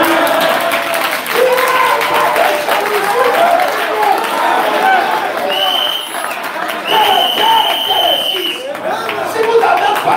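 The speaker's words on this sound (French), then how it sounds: "Nous allons seulement applaudir." A church congregation at a gospel tabernacle service in Dakar applauds in a steady, dense roar of clapping that lasts throughout, with voices and some tonal sound mixed in.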